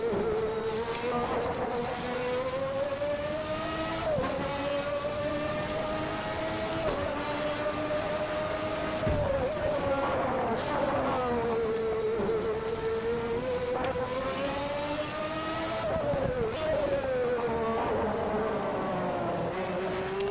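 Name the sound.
Honda V12 engine of McLaren MP4/6 in a racing video game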